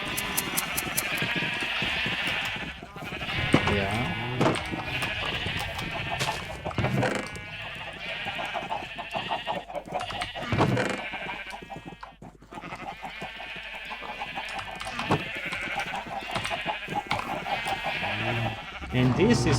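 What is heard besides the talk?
sheep bleating in Minecraft video game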